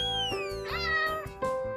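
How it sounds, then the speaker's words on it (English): A cat meows in a short, clear, close call with a falling pitch, followed by a softer second note near the end. "A cat makes a meow sound."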